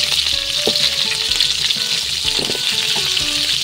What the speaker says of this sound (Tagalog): At dahil nga mantika yung ating piniprito, ayan, nagsitalsikan sila